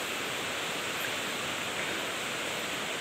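The Cimandiri river flows along its banks with a steady, broad rushing of water, a continuous close wash of noise with no breaks.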